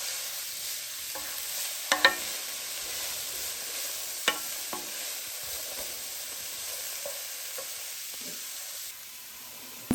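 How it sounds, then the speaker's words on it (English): Diced onion and carrot sweat gently in a pan with salt and pepper, a soft continuous sizzle broken by a few clinking stirs of a utensil against the pan, quiet and close, with no voices. "You want to cook them until they start to go a little translucent."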